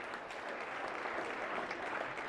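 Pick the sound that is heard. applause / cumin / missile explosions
applause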